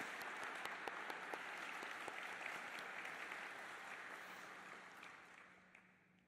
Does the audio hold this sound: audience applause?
yes